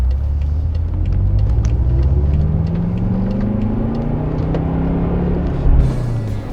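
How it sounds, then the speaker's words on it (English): Deep rumbling V8 engine and exhaust of a 2013 BMW M5 heard from the cabin, a loud steady drone with rising and falling pitch as revs change. "let's just hear the exhaust how it is, the engine how it is"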